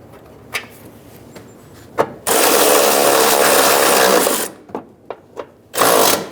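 A ratchet wrench snugs down bolts on a 2007-2011 Toyota Camry windshield washer reservoir. It gives a steady, close, rapid clicking run of about two seconds, then a few scattered clicks and a final short burst.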